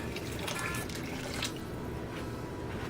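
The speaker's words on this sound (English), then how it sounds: "I'm just going to add some water to this" Water pours steadily into a pot of beef stew, a continuous splashing, trickling stream that runs close and fairly loud for about three seconds with no talking.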